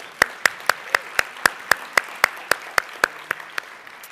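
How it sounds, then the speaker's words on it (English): Indoor audience applause at a forum's opening plenary comes through as a run of about fifteen sharp, evenly spaced claps in a steady rhythm, moderately loud over a quiet room. "Let's give them one more round of applause."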